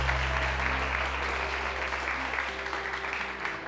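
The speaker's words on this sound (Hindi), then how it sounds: "तुम्हें खुदा का वास्ता तालियां बजा दो प्लीज।" Steady applause from a TV studio audience on a morning show, sustained clapping throughout with a faint low hum underneath.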